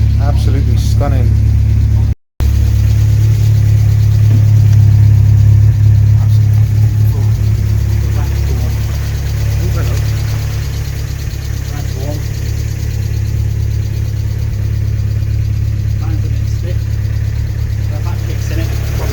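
A Vauxhall Astra GSi Redtop engine idles steadily at running temperature, a close, continuous low rumble that holds even throughout, with people talking over it.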